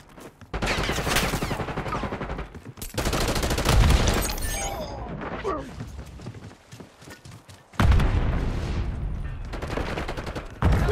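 Rapid bursts of automatic gunfire in Call of Duty, loud rattling volleys that start and stop in several separate blasts with short quieter gaps between them.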